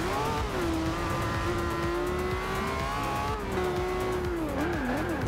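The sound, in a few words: Lamborghini Aventador accelerating through corners, video game Forza Horizon 2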